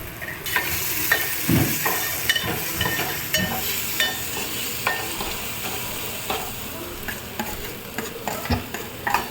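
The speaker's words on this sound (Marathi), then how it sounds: "मस्त कोलंबीचं किमा फ्राय करून झालं आहे" Minced prawns fry in a pan with salt, turmeric and masala, a steady close sizzle broken by repeated scraping and stirring knocks from a spoon, with no talking.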